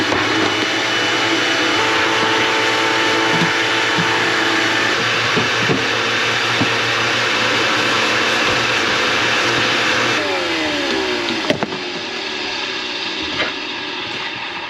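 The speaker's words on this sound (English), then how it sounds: "All right, let's get this vacuum in here." A vacuum cleaner runs continuously inside the trunk of a 2001 Roadtrek 190 camper van during carpet removal, a steady loud whine with occasional bumps and knocks as the nozzle moves around.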